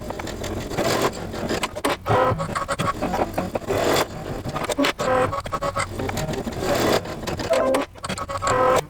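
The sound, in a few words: embroidery machine stitching alignment lines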